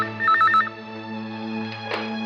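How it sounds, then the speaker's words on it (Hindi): A telephone rings in a Hindi horror audio drama: one short warbling electronic trill near the start, then a steady low drone continues without speech. "एक मिनट, फोन आया"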